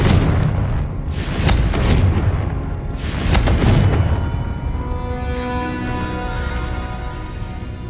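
Repeated heavy magical blasts boom out during a Hogwarts Legacy fight with the Confringo spell. Several loud, deep explosions come close together, then fade into a ringing, crackling tail.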